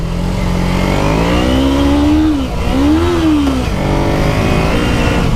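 Dirt-converted Kawasaki Ninja 250 motorcycle ridden in the desert, its engine loud and close, revving up through rising and falling pitch sweeps with a brief dip between gears.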